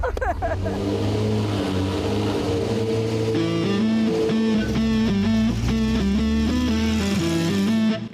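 A 1993 Ferrari 348 engine runs close by, a steady tonal hum that climbs and settles in pitch as it is revved slightly, loud and continuous.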